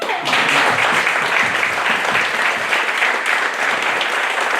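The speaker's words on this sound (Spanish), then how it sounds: "Un aplauso para Silvia." Audience applause for author Silvia Ramos de Barton at a book presentation, dense steady clapping from a room full of people, loud and sustained throughout.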